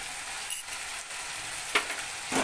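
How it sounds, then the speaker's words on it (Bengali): Masala with salt, sugar and a little water sautéed and stirred in a pan for a raw jackfruit dish, a soft steady sizzle broken by a few brief scraping strokes of the spoon, fairly quiet and close. "এখন মশলাটাকে আমি ভালো করে কষিয়ে নিচ্ছি"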